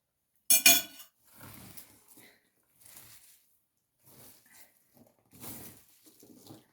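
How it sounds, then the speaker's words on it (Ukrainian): Shredded cabbage and carrot stirred in a bowl, soft irregular scrapes and clinks with a sharper knock at the start, quiet and intermittent between pauses. "Тепер капусточку з моркою розмішуємо розмішуємо гарно."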